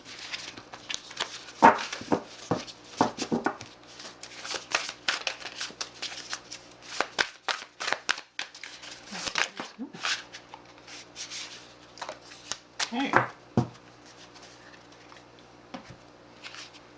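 Tarot cards being shuffled by hand: soft, irregular riffling and flicking of cards up close, in bursts with brief pauses, fairly quiet.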